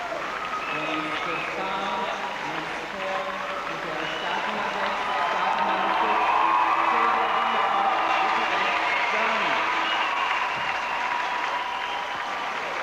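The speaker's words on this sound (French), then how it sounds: "Les applaudissements ne manquent pas pour saluer le couple allemand Silvia Dimitrov et Rico Rex" Sustained arena applause with cheers and whoops for a German figure skating pair, swelling midway and continuing steadily beneath a commentator speaking and background music.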